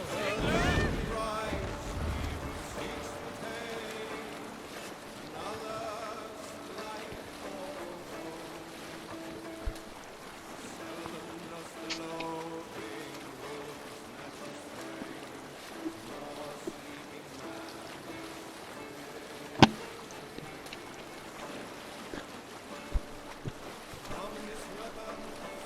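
A Viking longship moves across open water in Assassin's Creed Valhalla, with wind, sea wash and creaking under music, distant voices, and a few sharp knocks.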